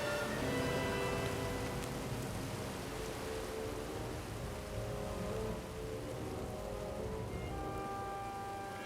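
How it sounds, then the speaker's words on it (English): Steady wind-driven rain on an exposed Cornwall headland, a dense continuous hiss that stays loud and close throughout with no voices. "We're in the horizontal rain."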